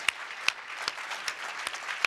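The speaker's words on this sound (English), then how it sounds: "if we could give our bishop a hand clap of praise" An audience at a church leadership panel applauds a bishop. Scattered, fairly sparse clapping with a few sharp individual claps stands out at a steady pace over a light wash of hands.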